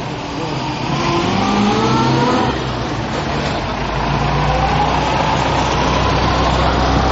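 An old vintage car engine runs loud and close, rising through a couple of revs before settling into a rough, steady idle.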